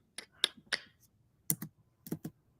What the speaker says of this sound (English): Who's that typing?